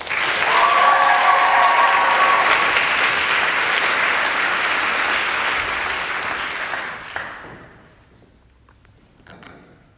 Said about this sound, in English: please give it up for Stella Claire McCain